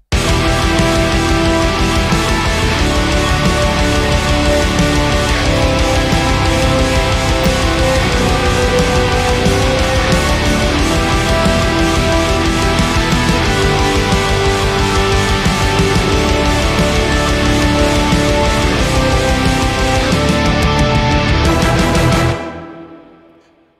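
An orchestral metal song break with trumpets plays loud and dense, with full band and brass driving steadily throughout, then cuts off abruptly just before the end.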